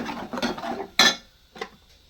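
A spoon scrapes and clinks against a metal pan while ground masala is mixed into hot oil, giving a few short, close stirring scrapes with brief pauses between them.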